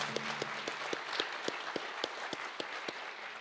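Applause from an audience at a sister-cities signing ceremony between the City of Longmont and the Northern Arapaho, steady clapping with distinct loud claps standing out, a low voice briefly audible at the start.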